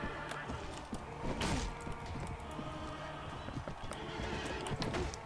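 Horse hooves pound at a gallop and a horse neighs amid the clash of battle in Mount and Blade Warband Floris, a steady busy din with no talk over it.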